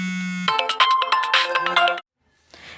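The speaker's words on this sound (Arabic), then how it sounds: "كان معايا تليفون بقى رديت عليه" A phone ringtone plays for an incoming call, a bright, busy chiming melody that sounds loud and close for about a second and a half, then cuts off abruptly into near silence.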